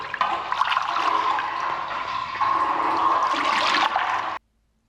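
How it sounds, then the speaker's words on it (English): Water rushes and gurgles down a blocked drain in a steady pour for about four seconds, then stops abruptly into silence. "I decided to tip some water down and see what happened."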